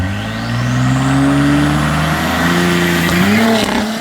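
An Audi SQ5 on drag radials revs hard through a quarter-mile run, its loud, close engine note climbing steadily before stuttering against fuel cut near the end, a fault traced to bad spark plugs.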